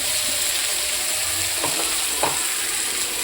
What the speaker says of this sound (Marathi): कढीपत्ता टाकूया त्यानंतर आपण बारीक चॉप केलेले कांदे टाकूया